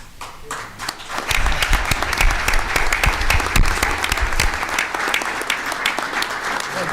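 Applause from members of an audit court council session, starting with a few scattered claps, then swelling into dense, sustained clapping that tapers slightly toward the end, with some murmured voices underneath.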